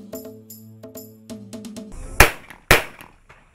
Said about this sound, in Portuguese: Atiradores do 1º de agosto, residentes em Benguela, afinam pontaria para a 5ª jornada do Campeonato Nacional de Fosso Olímpico